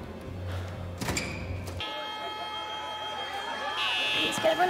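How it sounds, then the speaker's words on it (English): A fire alarm sounds in a TV episode, a sustained electronic tone that rises in level near the end, heard under other sound effects and talking. "Fire alarm."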